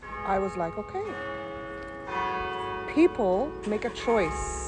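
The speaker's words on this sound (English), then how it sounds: "the church bells are ringing" Church bells ring in the distance with steady sustained tones that run beneath someone talking, partly covered by her voice.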